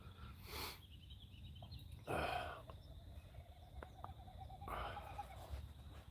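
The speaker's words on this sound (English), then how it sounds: "Does anybody know what that bird is?" An unidentified bird calls outdoors in the morning, faint repeated whistled notes drifting at a distance over quiet ambient noise, with a few louder rustling bursts between calls.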